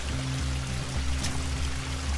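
Spring water flowing steadily from a mountain water source in the Albanian wilderness, a close, continuous pouring and splashing with no talk.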